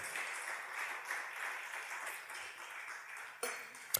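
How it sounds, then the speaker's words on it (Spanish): A church congregation applauds during a sermon, a soft, diffuse patter of clapping from across the hall that is fairly faint and distant, with a couple of sharper knocks near the end. "Dele un aplauso a Dios si quiere por eso."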